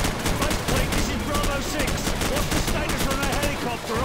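Rapid M4 rifle fire in Call of Duty 4: Modern Warfare, a dense continuous clatter of shots with other gunfire and game noise filling the mix throughout.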